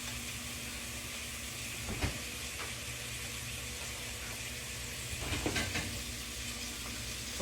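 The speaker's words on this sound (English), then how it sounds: "what I'm doing now is this bacon is frying" Bacon frying in a cast iron pan on a home stove, a steady close hiss and crackle with a few louder pops, continuing without talk.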